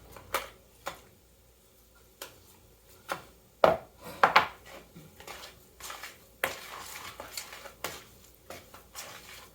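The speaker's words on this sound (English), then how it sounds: "So, now we're going to put some crab in here. We're going to mix it all up." Crab being mixed into a dish, heard as irregular knocks and clatters of a utensil against a bowl, some sharp and close, spaced over several seconds without talk.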